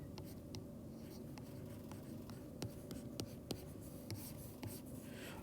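Pen writing on a paper worksheet, quiet continuous scratching strokes with irregular little taps and ticks, close and faint, no talking.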